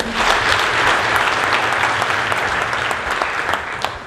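A church congregation at a cathedral music Sunday applauds the choirs, dense, loud and sustained clapping from a large crowd filling the whole stretch.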